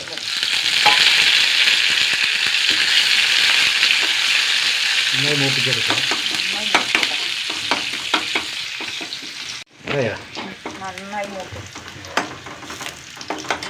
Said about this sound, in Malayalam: ഉള്ളി നന്നായി മൂത്തു